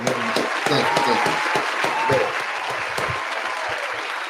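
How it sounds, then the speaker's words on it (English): An audience at a round-table discussion claps steadily and loudly for several seconds, with a few voices speaking over the applause before it tapers off slightly. "let's get another round of applause"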